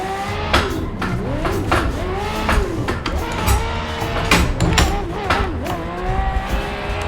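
Engine revs and tyre squeal from a supercar drifting in the racing game Assetto Corsa, with loud, continuous engine tone rising and falling through repeated throttle blips and shifts, and bursts of skid noise throughout.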